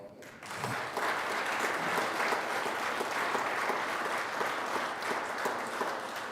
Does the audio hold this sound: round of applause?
yes